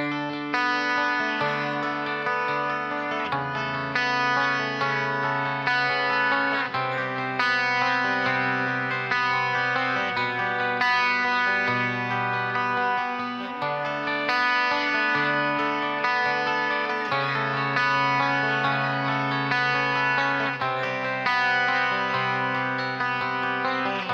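A Burns Double Six twelve-string electric guitar played through its bridge pickup with a clean tone and light delay, chiming sustained chords ringing on steadily with a shimmering ambient wash and no talking.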